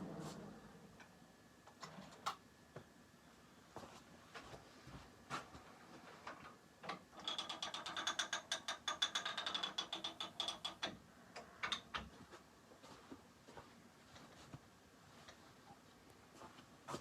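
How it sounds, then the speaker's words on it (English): A computerized long-arm quilting machine running a stitching pass on a quilt, heard as quiet mechanical ticking and whirring that builds into a fast burst of rapid clicking midway before easing back to scattered clicks, with no talking. "I just wanted to start the next run on the machine."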